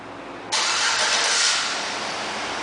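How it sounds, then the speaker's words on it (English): A 2008 Chevrolet Avalanche LT truck's engine fires up by remote start, a sudden loud roar after a short silence that settles into a steady, close idle with no talking. "One of the many options in this vehicle is a remote start, and I'll demonstrate that for you right now."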